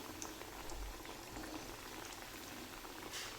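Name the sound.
potato-peanut tikki frying in oil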